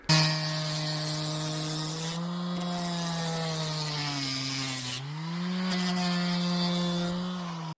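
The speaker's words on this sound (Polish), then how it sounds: "taką szlifiereczką mimośrodową można bardzo ładnie tutaj sobie zeszlifować, idealnie równiutko" A random orbital sander runs steadily on metal with a droning motor hum and a gritty abrasive whine, pitch dipping briefly twice as pressure changes, close and loud.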